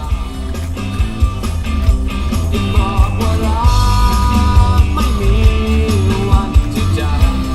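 Music with a steady bass-heavy beat and a melody over it plays continuously through the speakers of a Toyota Vellfire, fairly loud and full, with no talking.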